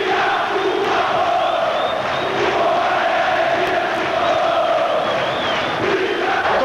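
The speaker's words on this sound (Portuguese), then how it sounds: "Torcida pedindo fica por favor." Fluminense supporters in a stadium chant 'fica, por favor' to Romário during a 5-0 win over Botafogo, a dense, loud, sustained roar of many voices singing in unison.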